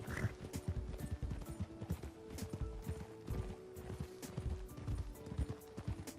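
Horse hooves clip-clop in a steady, close rhythm in the video game Red Dead Redemption, with faint mechanical clicks and rattles mixed in.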